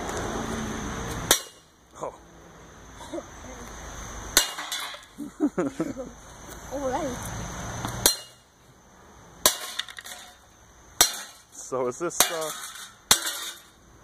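Outdoors, a toaster is smashed with sharp, loud metallic cracks and clinks. The blows come in irregular bursts with pauses between them, and people talk and react between the hits.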